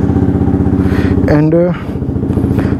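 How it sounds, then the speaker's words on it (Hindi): A Yamaha R1M motorcycle fitted with a loud Akrapovic exhaust idles with a rapid, steady, throbbing pulse, while someone speaks briefly over it on a rainy day. "ये वाला एग्जॉस्ट एकरा पविक का, ये बहुत ही लाउड है"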